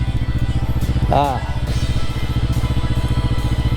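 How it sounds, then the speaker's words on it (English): A Kawasaki Vulcan S motorcycle engine idles with a steady, close, loud throb throughout, while a voice briefly speaks over it. "Try not to rev the old engine too much"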